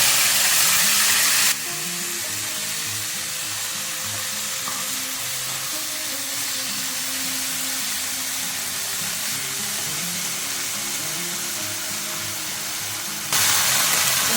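Washed fenugreek greens hit hot oil already seasoned with fenugreek seeds, setting off a loud sizzle that settles into steady, even frying under light stirring, with no talk.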